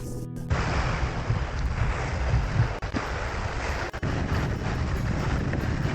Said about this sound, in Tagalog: malakas pa rin yung hangin tsaka hampas ng alon